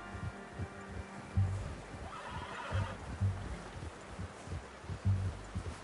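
A horse in the Red Dead Redemption 2 video game whinnies loudly over hoof clip-clops and rustling movement, with several short thumping steps spread across the moment.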